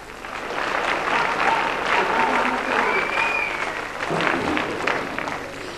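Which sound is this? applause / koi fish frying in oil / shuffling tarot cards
applause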